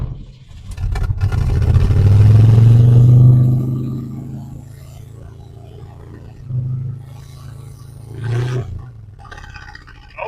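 A 1979 Jeep CJ7 engine roars loudly as it cranks over and revs, swelling to a strong peak early, then dropping back to a rougher idle with a couple of shorter blips later on.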